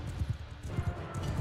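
Horses galloping in the video game Mount and Blade Bannerlord, quick muffled hoof thuds in loose clusters, several animals moving together at moderate distance under a soft background wash.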